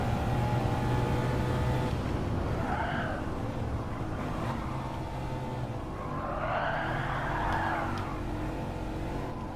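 Subaru WRX in the Gran Turismo 7 racing game, tires squealing and skidding through oversteer over a steady engine drone, with two long rising-and-falling squeals at moderate volume.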